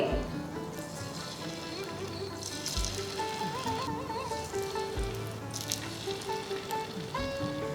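Yam (kanda gadda) pieces sit in oil on a tawa over medium flame, frying with a steady soft sizzle and crackle while a person talks over it and some faint background music plays.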